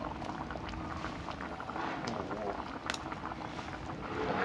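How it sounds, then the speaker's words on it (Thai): Coconut cream simmers at a rolling boil in a pot, a soft, continuous bubbling and hiss heard faintly from close range without any voices. "กะทิหัวกะทิกำลังเดือดเดือด"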